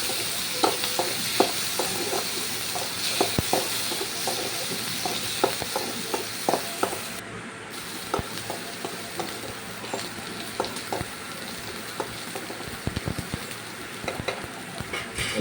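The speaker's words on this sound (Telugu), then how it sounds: "అందులోకి టమాటో యాడ్ చేయాలండి. టమాటో కొంచెం మెత్తబడే వరకు బాగా కలుపుకోవాలండి." Tomatoes fry and sizzle in a pan for chicken curry under a steady hiss, while repeated scraping stirs click and knock against the pan throughout, with no talking.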